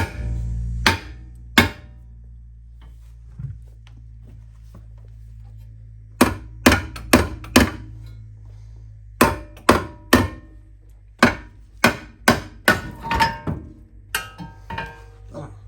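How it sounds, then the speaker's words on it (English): Small sledgehammer striking a car suspension arm, sharp metallic whacks in irregular bursts of two to four, ringing over a low steady hum, up close and loud. "you probably have to small sledge the arm"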